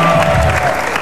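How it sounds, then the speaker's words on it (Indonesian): A studio audience at a television talk show gives a loud, full burst of applause with some cheering, brief and dense. "Sekali lagi tepuk tangan yang meriah."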